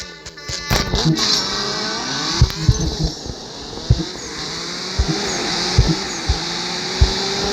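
Engines of a Pagani Huayra Codalunga and a McLaren in a racing video game, a steady loud drone with rising and falling revs, sharp transient thumps scattered throughout and tire noise, no talk.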